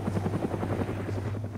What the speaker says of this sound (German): Hier kommt ein Heli